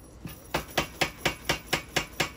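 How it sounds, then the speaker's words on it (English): A power hammer pounds a steel knife blank for an integral-bolster blade in a blacksmith's forge, striking a steady rhythm of about eight close, loud blows. "Go under the hammer"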